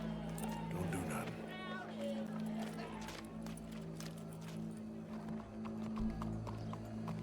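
Horse hooves clip-clopping in the Red Dead Redemption 2 video game, a steady moderate-paced clatter under game music and ambient crowd murmur, with a brief whinny.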